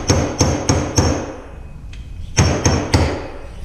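A seal driver taps a fork bushing down into a 2015 Harley Street Glide Special fork leg with sharp, close metallic knocks, a quick group of four, a pause, then three more as it seats.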